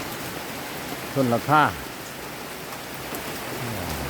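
Steady rain falling at a rural farm house around midday, a constant hiss of drops close by, with a brief voice speaking midway.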